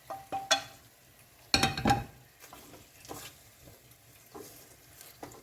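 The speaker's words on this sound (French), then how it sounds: "Je vais rajouter ma viande qui a doré tout à l'heure." Browned beef goes back into a pot with carrots, giving a few loud clattering bursts as the meat drops in and is stirred, then a faint low sizzle with scattered scrapes and clinks.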